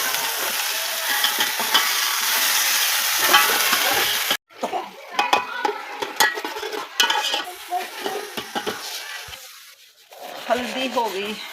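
Loud hot-oil sizzling of a tadka tempering in a frying pan, followed by spatula stirring and scraping with crackling spatters, close up, with a voice speaking now and then.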